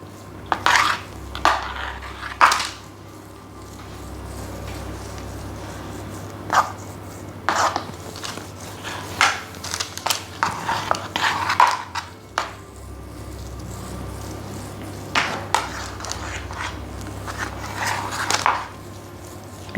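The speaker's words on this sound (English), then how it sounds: "you can just really smooth it out with the back of a spoon" A spoon scrapes and taps against a tray while smoothing a no-bake vegan, gluten-free peanut butter chocolate chip cookie dough slice, giving scattered short clinks and scrapes over a quiet room hum.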